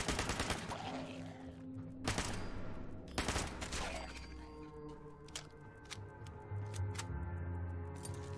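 Rapid bursts of video-game gunfire from an automatic weapon on Xbox One crack out loudly in clusters, with sharp repeated shots and a few isolated single reports between volleys, no voices over them.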